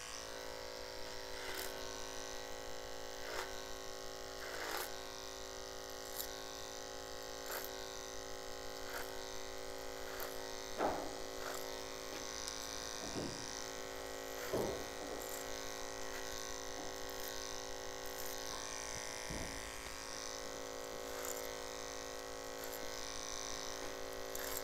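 Electric hair clippers buzz steadily through a barber's clipper-over-comb haircut, a continuous close hum with faint clicks and brief scraping touches, no talking.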